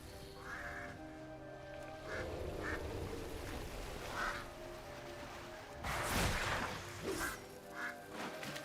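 Angry ducks quack repeatedly in World of Warcraft, a series of harsh nasal calls standing out over a busy game backdrop, with a louder burst of quacking near the end.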